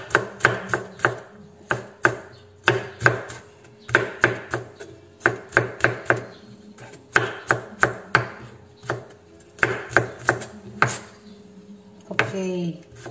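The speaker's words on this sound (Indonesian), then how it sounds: "kita keprek bawang putihnya ya guys. Kita potong kecil-kecil." Crushed garlic is chopped into small pieces on a board with a knife, a rapid run of sharp, close thuds in quick bursts with short pauses, ending in a scrape.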